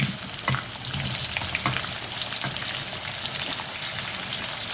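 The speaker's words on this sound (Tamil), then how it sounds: "நல்லா பொரிஞ்சு வந்துருச்சு வெங்காயத்தை போட்டுக்கிறேன்" Onions dropped into hot oil for idli kurma crackle and sizzle steadily up close, with a few stirring knocks early on and no speech.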